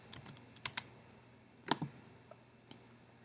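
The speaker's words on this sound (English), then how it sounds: "I'm going to just type in the word feedback" Typing on a computer keyboard while setting up an Autocrat merge job: a few quiet, scattered key clicks with a sharper double tap midway, close and alone in a quiet room.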